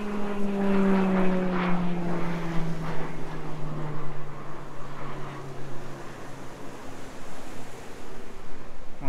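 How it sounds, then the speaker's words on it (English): Military aircraft out of San Javier Airport near Cabo de Palos, La Manga, Spain, pass overhead as a steady droning roar with a slowly falling pitch, fairly loud and continuous, mixed with surf washing along a rocky seashore. "Once again you have the airplanes flying out of San Javier Airport. Military ones, of course."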